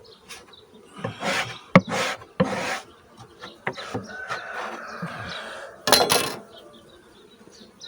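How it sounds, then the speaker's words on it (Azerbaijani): Scraping and cleaning of a beehive in early spring, with repeated rasping scrapes and knocks of a tool on wood over a background of buzzing bees, loud and close with uneven rhythm. "Görün mən necə təmizləyirəm."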